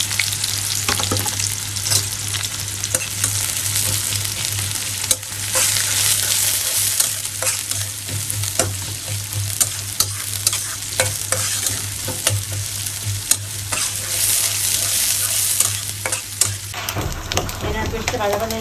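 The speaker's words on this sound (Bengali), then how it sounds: "পেঁয়াজ পেস্টটা ভাজা ভাজা হয়ে গেছে" Onion paste frying in hot oil in a wok, a loud continuous sizzle close by with rhythmic stirring and scraping throughout and a low steady hum underneath, with no voices.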